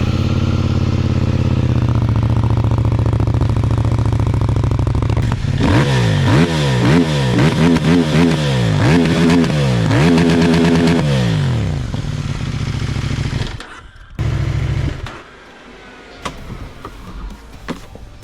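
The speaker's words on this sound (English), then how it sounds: "Another thing that I like a lot of this motorcycle is the sound of the exhaust." CFMOTO 800NK Advanced motorcycle exhaust, loud and close: a steady idle rises into a series of rhythmic revs with rising and falling pitch, then drops back and cuts out near the end.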